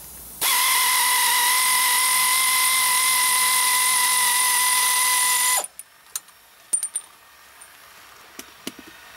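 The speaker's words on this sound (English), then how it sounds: "Remove the hub nut." A power tool whirs steadily for about five seconds while removing a car wheel hub nut during a wheel bearing replacement, then cuts off, followed by a few sharp metallic clicks and clinks.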